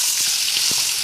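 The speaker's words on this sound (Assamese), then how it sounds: "মই পিঁয়াজ দিলোঁ এতিয়া অকণমান মই পিঁয়াজখিনি ভাজি ল'ম" Onions frying in hot oil in a home kitchen, a steady bright sizzle throughout with a few soft stirring knocks, close and alone without talk.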